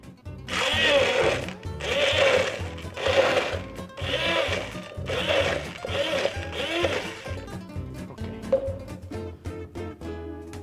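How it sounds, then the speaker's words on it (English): An immersion blender whirs in loud pulsed bursts as it purees caramelized tomatoes. The bursts come in a rough rhythm, then give way to quick clattering taps near the end. "And now, we pour them into an immersion blender."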